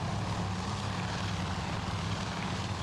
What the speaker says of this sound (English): Bad news, there are American torpedo bombers.